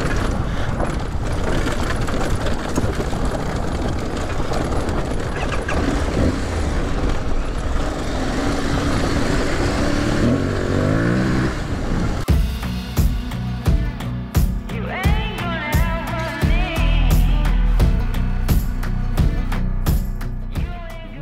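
An Aprilia Tuareg 660 adventure motorcycle rides a rocky, stony trail in Corsica. Its engine and wind roar steadily and close, the tone shifting midway into a rougher, choppier drone as the ride continues.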